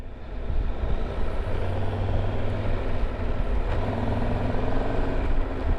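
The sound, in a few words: 2022 Triumph Tiger 1200 motorcycle engine riding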